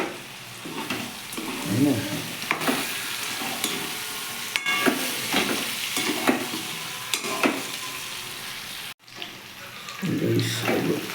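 Meat and potatoes fry in a pan with a continuous sizzle broken by clattering stirring and scraping; a person speaks briefly over the cooking.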